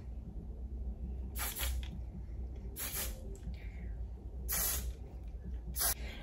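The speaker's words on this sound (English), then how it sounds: "spray down my flyaways" Hairspray from an aerosol can is sprayed onto hair in four short hissing bursts, close and sharp, separated by quiet pauses with faint room noise.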